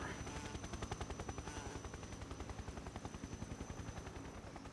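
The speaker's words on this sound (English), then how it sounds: "It's a Russian chopper." A Russian helicopter in Metal Gear Solid, its rotor beating in a steady rapid chop under a continuous engine whine, holding a constant level throughout.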